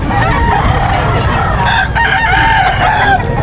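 Several roosters crow loudly and repeatedly, overlapping each other, with clucking and a busy crowd murmur underneath at an outdoor chicken market with many sellers.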